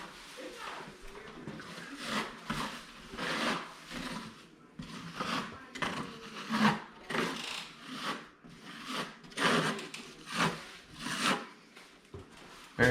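A trowel crisscrosses skip trowel texture over a drywall patch, giving rhythmic soft scraping strokes about once a second, near and fairly quiet, with a voice talking over them.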